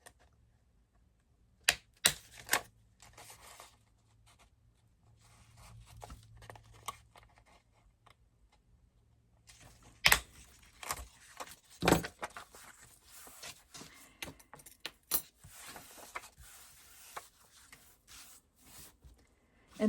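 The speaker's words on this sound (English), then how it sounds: "I will use my paper punch to punch holes." A handheld paper punch clicks and clunks through a pad of paper in scattered sharp bursts, each punch a close, crisp snap, with rustling paper and handling noise between them and no talking.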